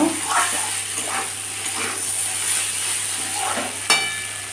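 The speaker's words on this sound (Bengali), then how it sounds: "আলু ভাজা হচ্ছে লাঞ্চের জন্য" Potatoes sizzle steadily in a hot pan of oil for a home lunch, a constant close frying hiss with occasional soft stirring movements and one brief clink.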